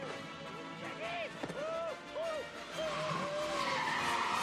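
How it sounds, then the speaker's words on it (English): A cartoon train engine derails and crashes, heard as a run of squealing, screeching skids and a sharp impact over busy animated-soundtrack noise. "The engine derails and crashes"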